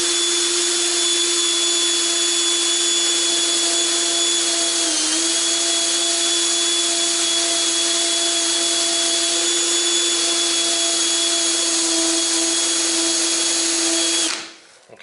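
A hand-held power tool runs steadily at low speed while polishing stainless steel bolts, giving a continuous loud whine that holds for about fourteen seconds and then cuts off abruptly near the end.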